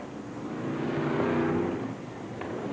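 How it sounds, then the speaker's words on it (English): A 1987 F1 stock car, number 52, races down the home straight at Mildenhall, its engine roar rising and swelling as it passes fairly close, then fading, with no talk over it. "Down the home straight goes Craig Howarth, car number 52"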